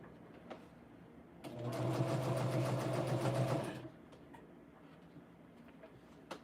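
A domestic sewing machine stitches quilt pieces in a steady, fast run of about two and a half seconds, close and clear, with quiet handling noise before and after.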